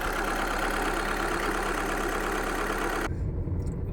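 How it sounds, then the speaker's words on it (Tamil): A 2013 Skoda Rapid diesel with manual gearbox idles roughly with abnormal engine vibration, a steady close low rumble that runs for about three seconds before cutting off abruptly into quiet. "என்ஜின் டோட்டலாகவே ஆடுது ஐட்லிங் கண்டிஷனர்"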